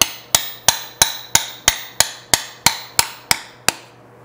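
A hammer strikes a shaft to drive out a pilot bushing with bread packed into the bore, twelve sharp metallic blows at an even rapid beat, each ringing briefly, with no talking.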